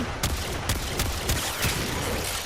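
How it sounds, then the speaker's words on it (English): A Bombard gun fires next to a Heavy Gunner in the video game Warframe, a rapid series of loud repeated shots over dense, constant battle noise with no pause. "We're going to start with this Bombard."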